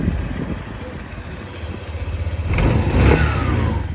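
A Honda PCX125 scooter engine hums low at first, then catches and rises to a steady, buzzing run partway through, heard up close with no talking.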